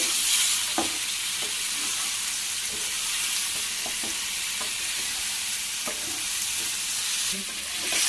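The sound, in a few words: stirring jackfruit curry frying in a pan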